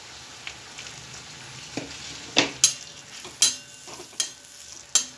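Dry coconut roasts in a kadhai, a quiet steady sizzle broken by several sharp scraping stirs of the spatula against the pan, evenly spaced and close.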